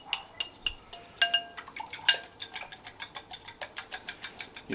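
Eggs whisked with a fork or whisk in a bowl for a breakfast burrito beside a flat top grill, giving a rapid, steady run of light metallic clinks and taps, close and fairly quiet, with no talk.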